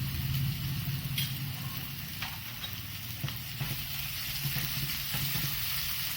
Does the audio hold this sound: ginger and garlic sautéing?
yes